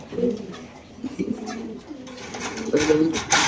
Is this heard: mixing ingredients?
no